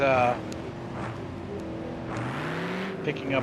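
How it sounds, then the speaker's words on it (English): Car engine in a racing video game, a steady droning motor hum with shifting pitch, heard beneath people chatting throughout. "it's a car sound."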